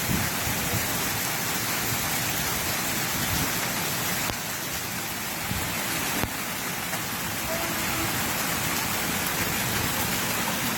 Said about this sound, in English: This is stone falling.